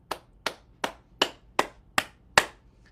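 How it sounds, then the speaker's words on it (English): Seven sharp, evenly spaced hand claps during a gentle circulation and heart-health exercise routine, close and crisp with quick decays and silence between them. "And we're going to start with clapping our hands."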